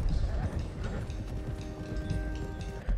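Horses clip-clop at a steady trot in the Red Dead Redemption 2 game, several animals heard together. A dense, continuous patter of hoofbeats sits under game music, and voices talk over it.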